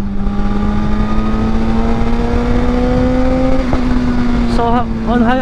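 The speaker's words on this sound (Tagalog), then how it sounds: "So on high RPM lalong umi-smooth yung engine niya." A Suzuki GSX-R 1000R motorcycle engine holding a steady high-RPM drone, loud and close throughout, with a brief chirping sound near the end.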